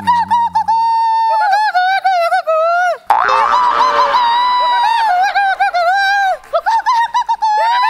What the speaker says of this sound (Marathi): मग हा कोणत्या तरी पक्ष्याचा आवाज आहे